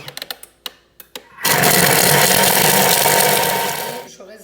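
A Thermomix food processor whirs steadily at speed 6 for a few seconds, mixing chicken terrine, loud and close after a handful of sharp clicks and knocks as the bowl is closed.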